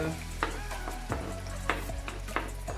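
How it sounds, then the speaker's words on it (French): Organic onions hit hot olive oil in a pan with a continuous crackling sizzle and a few clinks and scrapes of a spoon, near and moderate in level, no voices. "je vais mettre mes oignons bio dans l'huile"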